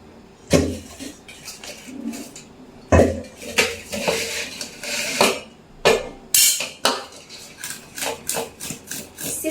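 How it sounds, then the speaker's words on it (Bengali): Small shitol fish being cut with a knife in a home kitchen, with irregular close knocks and clinks of blade on board and utensils, a few sharper strikes, and no talk. "কেটে রাখি মাছগুলো।"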